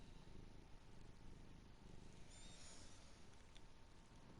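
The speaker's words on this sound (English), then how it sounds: "Can you hear him purring?" A cat purrs close to the microphone, a low steady rumbling throb running continuously through the whole stretch, soft but near.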